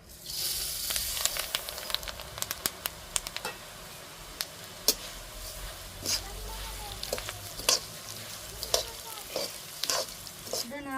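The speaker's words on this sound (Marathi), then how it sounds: "हळकुंड फोडून घ्यायचे म्हणजे आतपर्यंत चांगले तळतात" Broken turmeric roots fry in hot oil with a steady close sizzle, while a utensil stirs them and gives scattered sharp clicks and scrapes against the pan.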